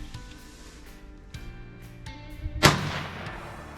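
A single sharp crack of a .22 WMR rifle firing a CCI Maxi Mag 40-grain round outdoors, loud and close, following a quiet stretch of faint tonal background hum.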